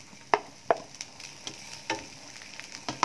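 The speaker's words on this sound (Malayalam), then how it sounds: "ഇനി ഞാനിതിലേക്ക് നമ്മുടെ ചിക്കന് ചേർത്ത് കൊടുക്കുകയാണ്." Chicken frying in a pan with onion and chili powder, a low sizzle punctuated by sharp clicks and scrapes of stirring at irregular intervals, quiet and without talk.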